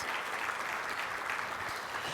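An audience at the AASA presidential installation applauds a new member of the past presidents' group, a steady, fairly loud wash of many hands clapping throughout.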